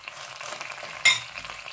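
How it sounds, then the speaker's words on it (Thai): Curry paste stir-fried in coconut cream, a faint steady hiss with a single brief scrape of a utensil near the middle, close and quiet, without speech. "เสร็จแล้วก็เอาตัวนี้ค่ะผัดพริกแกง"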